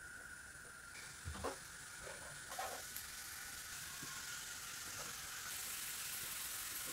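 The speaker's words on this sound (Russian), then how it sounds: "я помешаю лук, чтобы он не пригорел" Chopped onion fries quietly in a pan on the stove, a soft continuous sizzle with a few brief scrapes as it gets stirred. It is faint and heard alone.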